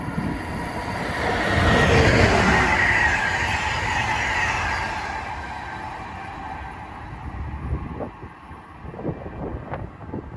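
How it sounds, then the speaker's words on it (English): Amtrak 651, a passenger train from New York to Harrisburg, passes on the Northeast Corridor at Linden, New Jersey. It makes a loud rushing roar that swells and fades as it goes by, with wind buffeting the microphone afterward. "And that was Amtrak 651 en route from New York to Harrisburg by at 4:38."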